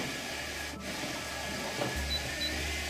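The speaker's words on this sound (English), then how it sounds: "It's laminating perfectly straight." A roll-to-roll laminator with front feeder and rear winder running in a print shop, a quiet steady mechanical hum and whir with a slight shift in tone partway through, no voices.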